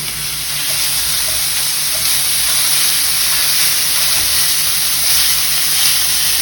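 Tater tot hotdish ingredients sizzle steadily in a hot pan while a spatula breaks them up and pushes them around, a continuous close frying hiss with faint scraping stirs and no talk.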